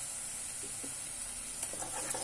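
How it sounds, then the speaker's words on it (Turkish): Chopped onions fry in a pan, giving a steady, close sizzling hiss that runs without pause and carries light stirring clicks. "Soğanlar güzelce kavruldu şöyle hemen."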